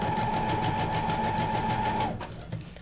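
A sewing machine runs a straight single stitch along paper junk-journal ephemera, a fast, even mechanical whirr and needle patter lasting about two seconds before stopping, close and alone.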